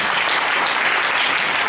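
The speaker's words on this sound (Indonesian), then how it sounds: "Berikan lagi tepuk tangan bagi Tuhan Yesus." An audience at a church seminar bursts into dense, sustained applause, loud and close, filling the short moment without any voices.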